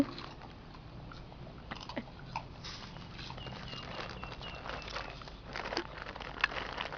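A dog chews a treat close up, with soft, irregular crunching and gnawing that goes on steadily at a low level.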